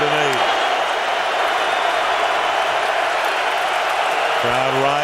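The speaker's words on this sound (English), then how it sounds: "Crowd rising, exhorting the defense." Football stadium crowd at an NFL game between the Chicago Bears and Atlanta Falcons rises and cheers for the defense, a loud, steady roar filling the whole stretch, with a commentator's voice talking over it at the start and end.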